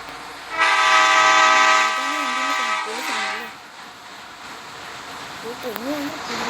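A train in the video game Indian Bike Driving 3D sounds a long sustained horn over a rumbling engine, followed by shorter warbling horn tones, with someone talking over part of it.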